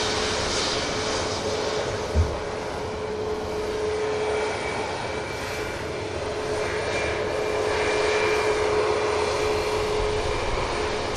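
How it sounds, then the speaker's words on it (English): A Ryanair jet airliner taking off from runway 23 left, a steady loud roar of jet engines that holds and swells slightly throughout, heard from a distance outdoors. "One Ryanair rotates while the next aircraft to depart enters the active runway 23 left."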